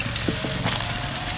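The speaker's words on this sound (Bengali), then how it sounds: "দেখুন লাল করে ভেজে নিচ্ছি" Snakehead (shol) fish pieces fry in hot oil, a continuous sizzling hiss with a few soft pops and bubbling, no voices.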